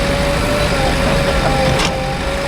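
A JCB 3DX backhoe diesel engine idles steadily at close range during lake-soil loading, a constant low rumble with a faint whine and one brief clatter near the end.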